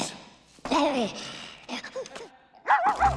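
A voice imitates a small dog, giving a few yappy barks and whimpering yips in short bursts separated by brief pauses.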